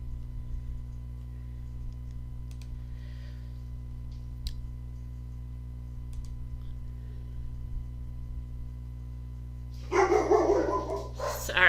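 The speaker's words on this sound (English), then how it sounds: "Sorry, got the dogs going again." Dogs barking indoors: steady electrical hum fills most of the clip, then a burst of moderately loud, near barks breaks out near the end.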